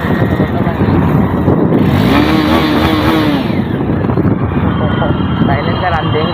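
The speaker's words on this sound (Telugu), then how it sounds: "అయితే బండి సౌండ్" A motorcycle engine running steadily while being ridden, a loud close drone with a rising and falling whine in the middle, blended with wind rush for the whole stretch.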